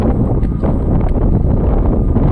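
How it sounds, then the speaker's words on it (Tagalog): Strong wind buffets the microphone at Dangay Roxas seaport, a loud continuous rumbling roar with gusty bursts and no clear voices over it. "ngayon medyo malakas yung hangin"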